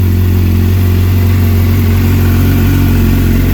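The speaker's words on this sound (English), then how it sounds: "one of the most recognizable sounds in the motorcycle community next to a Harley-Davidson is a Yoshimura pipe Suzuki" A 2008 Suzuki GSX 600 R motorcycle with a Yoshimura exhaust rumbles loudly and close, a deep steady idle with a throaty pulsing exhaust note.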